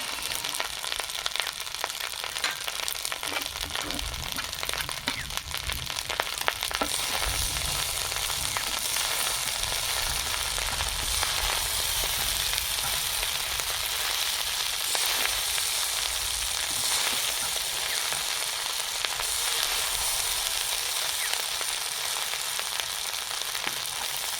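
Cashews, raisins and whole garam masala fry in a pan, a dense, steady sizzle and crackle of hot oil that continues unbroken and close up.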